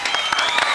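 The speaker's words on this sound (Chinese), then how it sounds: "拍手。" A studio audience on a television cooking show gives a quick burst of clapping, heard under overlapping talk.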